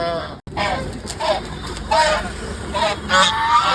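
Geese honk repeatedly in short nasal calls at a poultry market where ducks, guinea fowl and swans are sold, the calls loud and near over a steady yard background.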